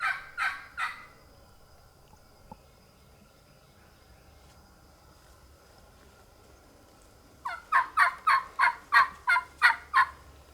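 Wild Osceola turkey gobbles in the woods: a short rattling gobble at the start, then a longer run of repeated gobbling notes near the end, moderately distant over quiet insect background.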